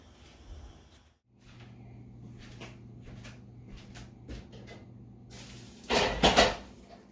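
A metal lid is set on a pot of spaghetti on the stove, giving a bright clatter of metal on metal near the end after several quieter kitchen knocks and clicks over a low steady hum.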